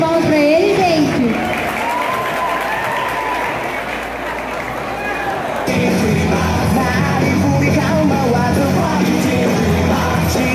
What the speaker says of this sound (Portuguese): Uma salva de palmas pra ele, gente.